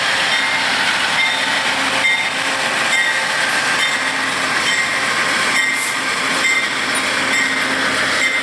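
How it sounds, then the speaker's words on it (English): Amtrak locomotives 94 and 156 in Heritage Red livery pass on the Heartland Flyer in Fort Worth, Texas, a continuous loud rumble of wheels on rails with faint metallic squeals. "Locomotive number 94 and locomotive number 156."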